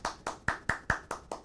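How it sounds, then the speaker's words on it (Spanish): Applause in a television studio comes across as a few distinct, evenly spaced hand claps, seven sharp strikes in quick rhythm, close and moderately loud with no talking. "Señoras y señores, con ustedes, Luisa González. Un aplauso,"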